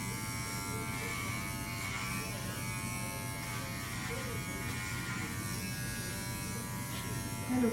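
Hair clippers buzz steadily up close, tapering short hair on the sides of a head, a continuous electric hum that lasts throughout. A faint voice can be heard underneath.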